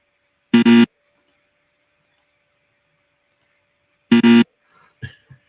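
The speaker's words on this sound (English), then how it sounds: "Where is that buzzer?" A buzzer sound effect fires twice, each a short, loud, harsh tonal blast, separated by several seconds of near silence, followed by a faint brief sound.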